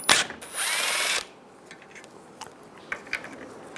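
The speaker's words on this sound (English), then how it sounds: "Using a 10mm socket, take this bolt out." A power tool spins a 10mm socket to back a bolt out of a 2011-2018 Ram 1500 during AC condenser replacement, giving a loud, close whirring burst of about a second, then quiet clicks and handling taps.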